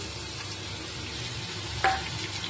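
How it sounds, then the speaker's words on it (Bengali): Onions frying with spices in a pan for a fish roe curry, a steady close sizzle with light stirring and a brief sharper scrape near the end. "এখানে দেখো পেঁয়াজ ভাজা ভাজা হয়ে গেছে"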